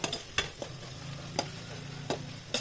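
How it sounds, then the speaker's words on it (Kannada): Spice powder frying in hot oil for capsicum rice, with a steady low sizzle under sharp scraping stirs of a spoon against the pan, heard close and alone. "ಪೌಡರ್ನ ನೋಡಿ ಅದನ್ನು ಆ್ಯಡ್ ಮಾಡ್ಕೊಂಡ್ಬಿಟ್ಟು ಎಣ್ಣೆಯಲ್ಲಿ ಫ್ರೈ ಮಾಡ್ಕೊಳ್ಳಿ"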